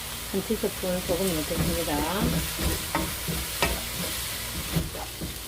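Squash stir-fried with a teaspoon of salt in a pan for Korean ssamjang, giving a steady sizzle with scraping stirs and utensil knocks beneath a voice talking over the cooking.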